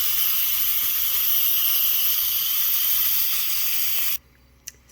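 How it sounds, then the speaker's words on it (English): An Instant Pot pressure cooker holding goat biryani vents steam manually in a loud, steady hiss lasting about four seconds, then cuts off abruptly, leaving near silence with a faint click. "I turned off my Insta-pot and I'm going to vent it out manually."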